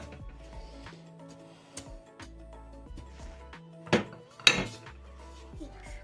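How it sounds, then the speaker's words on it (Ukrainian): Dishes clink and clatter as they are stacked and moved, with a few sharper knocks and bumps, close by in a quiet room. "Мама прибирає посуд."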